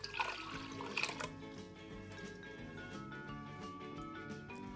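Liquid strains through cheesecloth stretched by hand, a wet trickling and splashing that is loudest in the first second, then settles into a steady quiet pour over faint background music.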